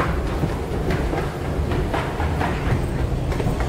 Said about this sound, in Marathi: अशा तऱ्हेने आपली ट्रेन येतच आहे